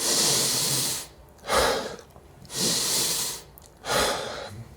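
Slow, deep breaths close to the ear, a long airy inhale followed by an exhale, repeating in a steady rhythm with no talking.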